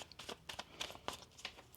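A tarot deck shuffled by hand, a brief burst of papery riffling and card slaps in quick succession, soft and close with no voice.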